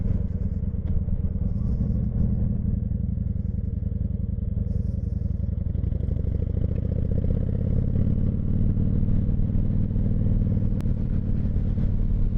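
A Honda VT1100 Shadow Ace motorcycle engine idling close by, a steady, loud, low rumbling throb with mechanical clatter that continues without a break.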